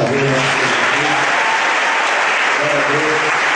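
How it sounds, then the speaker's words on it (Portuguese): An audience at a church testimony event applauds in a dense, sustained wash of clapping, with faint voices and tonal sound underneath. "Vocês podem aplaudir mais uma vez."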